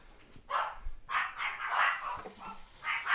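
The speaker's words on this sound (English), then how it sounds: "My dogs are barking a lot." Several dogs bark repeatedly indoors at home, in uneven bursts at moderate volume over a muffled background.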